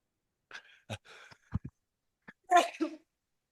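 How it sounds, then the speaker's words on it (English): A single close sneeze with sharp bursts of breath, preceded by a few quiet intakes and small sounds, in an otherwise silent room. "I knew I was going to sneeze."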